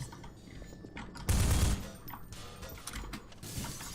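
A grenade blast from an SMG grenade launcher in Half-Life 2, used to boost the player upward, a single loud booming burst that rises out of quieter game ambience and fades within half a second.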